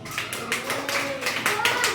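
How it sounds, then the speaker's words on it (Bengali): A classroom of students claps once together in praise, a short ragged burst of handclaps with a few scattered taps and a faint voice in the background. "হাততালি একবার।"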